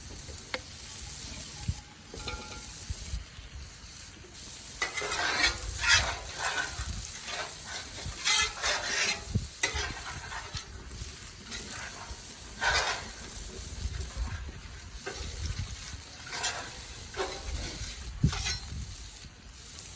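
Potatoes fry in oil on a Blackstone griddle during a breakfast cook, giving a faint, close sizzle with repeated scraping and stirring bursts.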